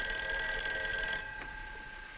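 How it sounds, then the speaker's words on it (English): A 1960s household telephone's mechanical bell trills steadily and loudly nearby, the rattling ring easing slightly partway through, with no voices over it. "Hey, that's your phone, Uncle Bill."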